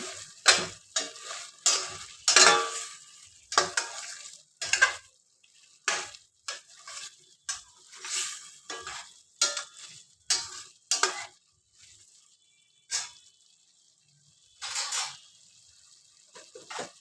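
Vegetarian curry being stirred in a pan after garam masala powder goes in, giving repeated scraping strokes with a faint sizzle underneath, steady and close, with no voices.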